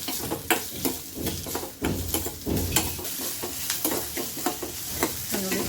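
Fenugreek leaves fry in oil in a pan, giving a continuous close sizzle broken by frequent scraping and clinking strokes as they are stirred.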